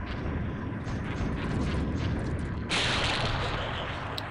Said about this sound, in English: Humongous explosion.